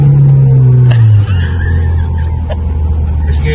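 A turbocharged Honda Civic SiR accelerates hard in first gear, its engine note loud and close with a rising whine. The revs then drop sharply, and brief hissing bursts from the blow-off valve cut through the exhaust drone.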